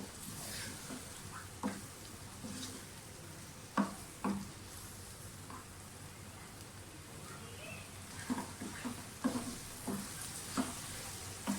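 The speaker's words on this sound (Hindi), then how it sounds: "मैंने इसमें दाल डाल दी है। अब इसकी भुनाई कर लें अच्छी तरह से।" Urad dal and softened tomatoes roast in a pot with a soft, low sizzle and intermittent stirring knocks and scrapes, fairly quiet and heard without talk.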